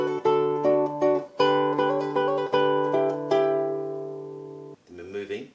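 Solo classical guitar plays a passage from Matteo Carcassi's Etude No. 10, plucked notes over a sustained bass in a steady rhythm, close and clear, ending with a brief softer phrase.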